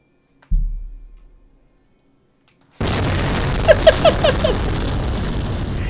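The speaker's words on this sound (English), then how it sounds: "That was a massive explosion." A deep boom bursts out and rumbles away, followed after a pause by a loud, steady roar with a few sharp crackling pops, an explosion in the flight game SimplePlanes.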